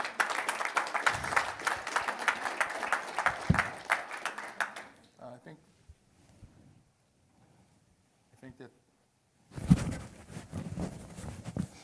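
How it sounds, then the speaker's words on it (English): An audience claps at a community dialogue on local policing, a loud burst of close applause that fades out, then a quiet gap with a few scattered claps before another round starts. "Please clap for that."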